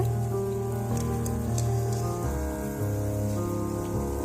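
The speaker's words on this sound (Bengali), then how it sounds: "আমাদের বড় রাঁধুনি বড়া ভাজছে।" Puffed rice fritters (khoi bora) fry in hot oil with a steady, rain-like crackling hiss, partly buried under loud melodic background music, a few faint clicks standing out.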